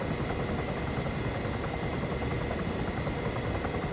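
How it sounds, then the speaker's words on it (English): A helicopter in the ArmA 3 military game flies with a steady, loud rotor and engine drone, constant and unbroken with no voices. "So lower the collective, raise the nose, slow this helicopter down."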